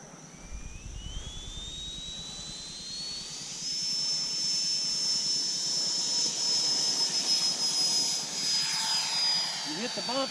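A Freewing F/A-18C Hornet RC model jet spools up and takes off, its electric ducted-fan whine climbing steadily in pitch and then holding a loud, sustained high tone close by.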